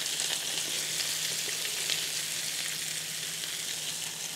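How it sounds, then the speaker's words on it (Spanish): Sardines frying in a pan for Andalusian escabeche give a steady, dense sizzle that holds evenly throughout, close and moderately loud with no voices. "mientras se fríen las sardinas"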